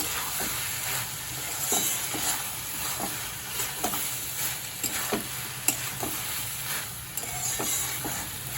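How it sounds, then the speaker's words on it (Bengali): Fried prawns sizzling with Malabar spinach in a pan, a steady crackling hiss broken by scattered stirring clinks and scrapes, close and moderately loud with no talking. "আমি দেব ভাজা চিংড়ি মাছগুলোকে দিয়ে দিলাম"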